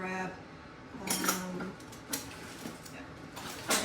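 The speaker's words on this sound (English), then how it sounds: "I'm just taking a spoonful at a time to add in to our mixture." A spoon tapping and scraping against a bowl while adding spoonfuls of ingredient to royal icing mixture, a few sharp clinks separated by soft handling sounds, close and fairly quiet.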